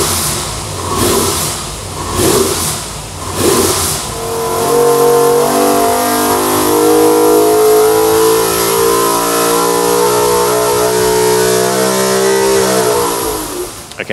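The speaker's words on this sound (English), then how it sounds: "I've just finished dynoing that 410 Sprintcar engine" A 410 sprint car race engine on a dyno revs in a few short bursts, then holds a sustained high-rpm roar with shifting pitch before winding down.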